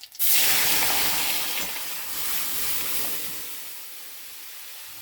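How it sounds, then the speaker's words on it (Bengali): Boiled lentils (dal) pour into a cooking pot as a steady close hiss-like gush that starts abruptly, then gradually tapers and thins over several seconds. "এবার ডালটা দিয়ে দিই"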